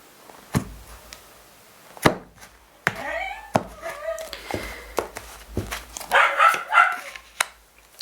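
Several dogs bark at someone near the front gate of a house on a village street, sharp repeated barks in irregular bursts that build into a louder flurry near the end, with some human sound mixed in.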